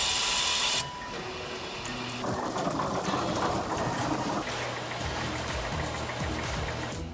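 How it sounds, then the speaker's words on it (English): An industrial power-drive cutter measuring and cutting fiber cable assemblies in a manufacturing plant makes a clattering mechanical whir with rhythmic knocking and hissing, a sharp tonal burst at the start, then busy steady machine noise. "This machine measures and cuts the fiber assembly to the correct lengths and sends it down a conveyor"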